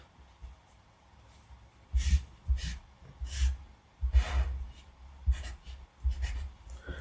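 Close Sharpie marker strokes sketch rough math function curves on paper, coming in separate scratchy bursts of a second or so with short pauses between them and low soft thumps beneath, with no voice.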